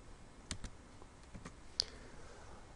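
Typing on a computer keyboard, a few sparse, faint clicks and key taps spread over a couple of seconds in a quiet room.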